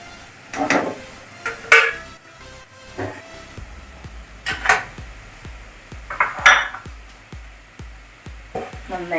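Boiling jaggery syrup stirred in a thick-bottomed pan for peanut candy, with a steady knock of spoon against metal roughly every half second, close and clear, under a low bubbling background.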